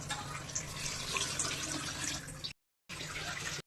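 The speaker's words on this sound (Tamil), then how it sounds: "இப்போ அளந்து வச்சுருக்க தண்ணியை ஊற்றிடுவோம்." Measured water is poured into a pot of mushroom biryani, a steady, close splashing rush that runs continuously, breaks off briefly, then resumes for a moment.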